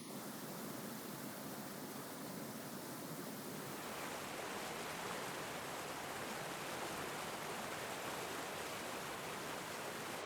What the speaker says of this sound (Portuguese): O rio, que corre em cascata por apenas um curto período a cada ano, gradualmente drena através de rochas e desaparece.